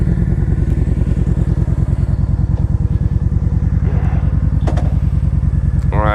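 A 2013 Kawasaki Vaquero motorcycle engine idles close by with a steady, loud, throbbing rumble and fast regular firing pulses, a few faint clicks and clunks over it, no talk.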